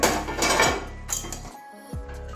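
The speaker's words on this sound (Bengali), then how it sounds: "এবারে ঢাকনাটা খুলে নিচ্ছি" A lid comes off a cooking pot of steamed cabbage and potatoes with a few close metallic clanks and scrapes, separated by brief pauses.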